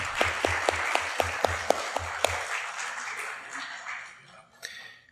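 At a lecture marking the centenary of Franz Kafka's death, an audience claps for a professor. Crisp, evenly spaced claps sound close for about two seconds, then trail off into a faint, thinning patter.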